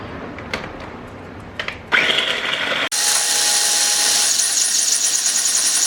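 A small food processor chops jalapenos, a few taps before the motor whirs up loudly, then grinds and whines steadily at close range until the end.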